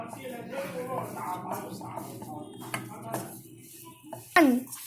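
Radish ball mixture with leaves and corn flour is stirred in a bowl, the spoon scraping and clinking against the dish in a steady run that ends in one sharper clatter.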